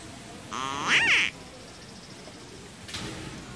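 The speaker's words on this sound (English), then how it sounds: "I should try calling the ducks while I'm next to a body of water." Ducks in the Secret Files 2 video game let out one clear, nasal call lasting under a second, followed by a fainter, shorter call a moment later over a quiet background.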